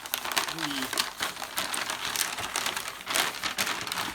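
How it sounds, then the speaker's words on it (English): Dense, continuous crinkling and crackling of paper or wrapping, close by, with brief faint voice traces mixed in. "I'm listening to my paper crackle"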